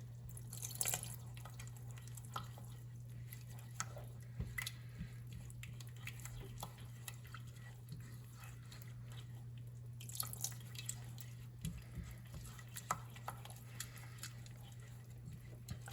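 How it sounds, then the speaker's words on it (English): Hot water slowly added to peanut sauce in a pan over medium heat while mixing; faint irregular drips, small splashes and wet squishing stir sounds, quiet and close, over a low steady hum with no talking. "now I'm gonna add the hot water slowly while mixing"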